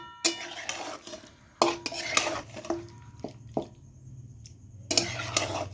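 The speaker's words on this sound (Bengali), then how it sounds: "দেখুন কড়াইয়ের মধ্যে চিকেনটা দিয়ে দিলাম এবার ভালো করে নাড়িয়ে দেবো" Spiced chicken is stirred in a metal kadai, with repeated scraping strokes and sharp clinks of the ladle against the pan, separated by short pauses and a faint sizzle.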